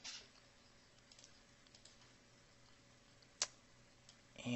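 Sparse, faint computer keyboard clicks during work in animation software, with one sharper isolated key press near the end in a quiet room.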